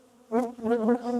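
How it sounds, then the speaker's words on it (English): Honey bees buzzing around a full hive box, a brief close, rising-and-falling drone. "that's a full box of bees going in there."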